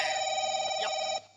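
A mobile phone rings with a bright, steady electronic ringtone that holds for over a second and then cuts off, with faint background noise during a Chhattisgarhi family stage drama.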